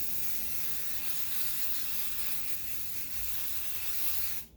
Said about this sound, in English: And we just spray it on.